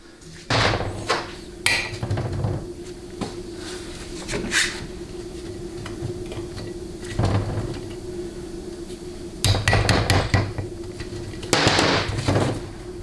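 Hammer strikes drive a rear bushing into a 700R4 transmission case, sharp metallic blows landing in short clusters with pauses between, close and fairly loud in a quiet workshop.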